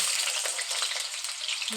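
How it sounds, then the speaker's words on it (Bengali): Potatoes frying in hot oil in a wok give a steady, close, dense sizzle with small crackling pops throughout, with no talking. "আলুটা লাল লাল করে ভেজে নিই"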